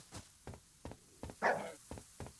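A dog in the survival video game DYSMANTLE barks in a steady series of short, moderately close barks, roughly one every half second, with one louder, breathier bark in the middle.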